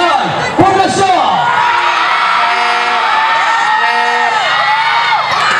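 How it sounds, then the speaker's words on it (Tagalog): Barangay Poblacion supporters cheer and whoop loudly at a championship basketball game, a dense sustained roar of crowd voices and yells filling the whole stretch, with shouts rising and falling. "Ito ngayon ang sigaw ng taga-barangay Poblasyon."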